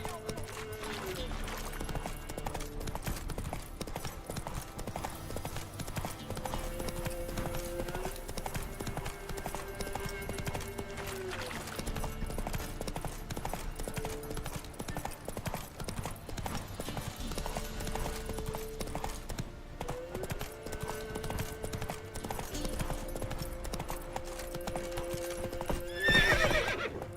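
Roach, Geralt's horse in The Witcher 3 game, clip-clops at a steady walking rhythm with a neigh or whinny, under steady game music and occasional speech throughout.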